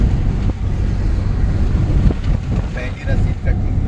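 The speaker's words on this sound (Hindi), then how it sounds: "इतनी तेज़ हवा चल रही है यहाँ पे, बहुत ज़्यादा तेज़ हवा चल रही है।" Strong wind buffets the microphone at a toll booth on the Betul to Indore highway, a loud, constant low roar, with brief faint voices and small background noises mixed in.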